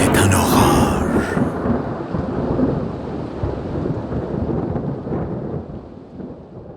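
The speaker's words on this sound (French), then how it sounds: "c'est un orage." A thunderstorm with a loud rolling thunder crash at the start, then a steady roar of rumble and rain that slowly fades, with no voices.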